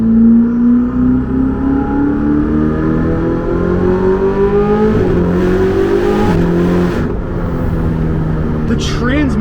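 A Ferrari 488 GTB V8 accelerates in race mode, with the engine note climbing steadily through the gears and dipping briefly at each upshift, heard loud from inside the cabin.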